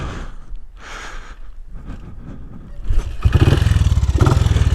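A 1959 BSA motorcycle engine fires up after some clattering and handling noises, settling into a loud, rapid, regular thumping idle close by.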